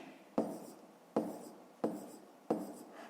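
Pen writing on paper during a fifth-grade maths lesson, four quick scratchy strokes spaced evenly about every second, close and faint in a quiet room.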